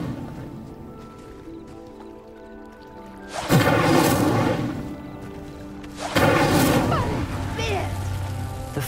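Incendio fire spell in Hogwarts Legacy bursting into flame on a pyre: two loud whooshing roars a few seconds apart, each followed by sustained crackling fire over soft ambient background.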